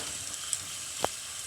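Spice paste frying in oil for lote (Bombay duck) fish, a faint, steady sizzle with one or two soft clicks of a spoon in the pan.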